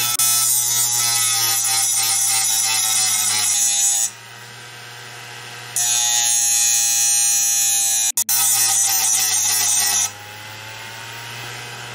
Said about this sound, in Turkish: Son kez de bir tane de büyük bir tornavida bileyim.